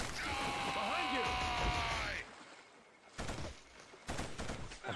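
Burst of gunfire from a Killzone battle, dense and loud for the first two seconds, followed by quieter scattered shots and action noise.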